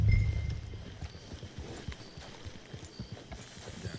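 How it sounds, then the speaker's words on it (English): Horse hooves clip-clop in Red Dead Redemption 2, a steady run of close, distinct footfalls on hard ground. A brief louder thud opens the sequence. "It's your horse."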